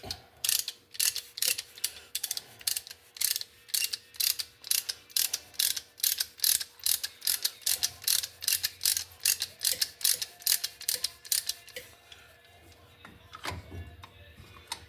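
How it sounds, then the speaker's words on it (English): A ratchet wrench clicks rapidly and steadily, close up, while working on a 2000 Ford Ranger. Strokes come in a regular rhythm of about two or three per second and fade to a few scattered clicks near the end, with no talk. "And all you do is just ratchet."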